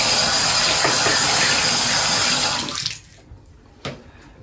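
A bathroom mixer tap being bled of trapped air, giving a loud continuous rush and hiss of water and spitting air for about two and a half seconds, then cutting off to quiet with a brief later spurt.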